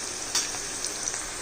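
Chopped onion frying in a pan with a pinch of salt gives a steady, close sizzle, with a few brief louder crackles and no voices.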